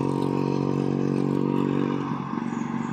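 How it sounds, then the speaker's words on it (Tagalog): Traffic on a roadside street beside a house produces a loud, close, continuous engine drone that shifts slightly near the end, as if a vehicle passes. "Kaya kinig na kinig po yung mga tunog ng sasakyan."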